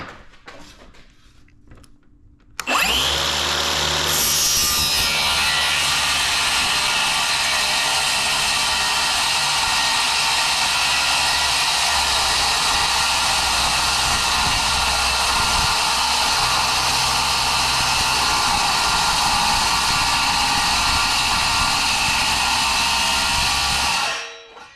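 A power tool cutting aluminum for a speaker box on a Can-Am Defender, starting abruptly after a quiet moment and then roaring as a loud, steady, high-pitched whine for about twenty seconds before stopping.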